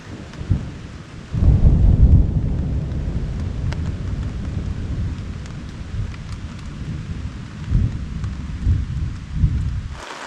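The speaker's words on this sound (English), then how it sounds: "Halfway through dinner, the thunderstorms finally rolled in." A thunderstorm rolls in over a lakeside camp in Montana, with a deep rumbling thunder roll and steady rain drumming close by, swelling and easing in waves.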